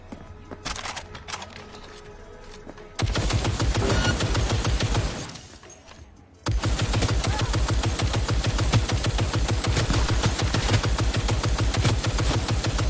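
A gunfight in the video game Cyberpunk 2077 plays as dense, sustained automatic gunfire with rapid cracking bursts. One short quieter lull breaks it before the loud, continuous firing resumes, with no speech.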